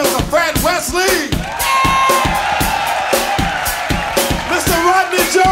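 Concert audience at a soul show cheering and whooping for a performer, loud dense crowd noise with yells and rhythmic claps over lingering music.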